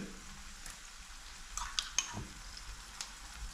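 Olive oil with garlic and ginger sizzles quietly in a pan with fried onions as a spoon stirs it, giving a soft steady crackle with a few sharper scrape and clink accents near the middle.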